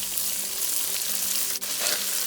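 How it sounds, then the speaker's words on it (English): Onion mixture and tomatoes fry with browned canned beef in a pan, a loud, dense, continuous sizzle close by, with a brief dip in the hiss partway through and no voices. "so I add in the onion mixture and the tomatoes."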